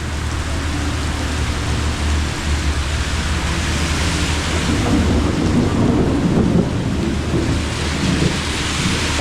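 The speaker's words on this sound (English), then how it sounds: "Man, this rain is relentless." Heavy rain pours during a thunderstorm in Singapore, a loud, dense, unbroken roar of rain with deep rumbling thunder swelling midway, close and steady throughout with no talk.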